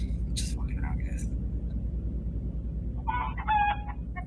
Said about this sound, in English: They got chickens on video.